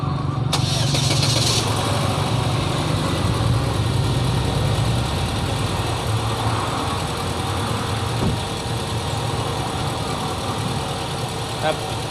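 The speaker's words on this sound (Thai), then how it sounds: "ตอนนี้ผมทำการสตาร์ทเครื่องยนต์แล้วนะครับ" A car engine at a repair garage cranks and catches after the radiator is refilled with water, then settles into a steady, continuous idle that carries on throughout.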